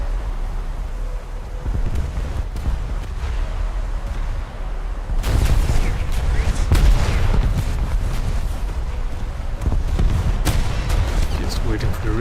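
Warship main gun turrets firing in a naval video game, heavy booming salvos over a constant wind-like roar, loudest in the second half, while someone talks in places.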